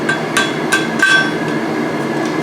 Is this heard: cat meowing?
no